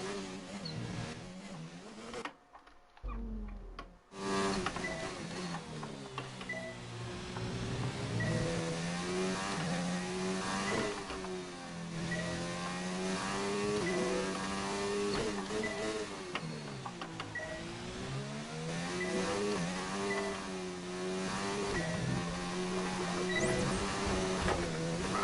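An F1 car engine in F1 2019 whines at high pitch, rising and falling steadily through gear changes after a brief cut near the start, with faint voices beneath it.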